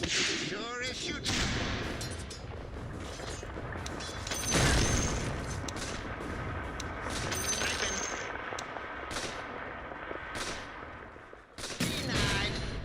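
Gunfire in a video game, with rapid bursts of shots, cracks and heavy booms layered over busy game effects, loud and continuous, with a player's voice talking at times.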